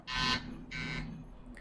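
A quiz buzzer is pressed during a question round, giving two loud, harsh electronic buzzes, each lasting about a third of a second, separated by a brief gap.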